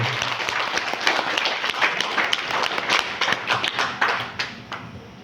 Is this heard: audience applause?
yes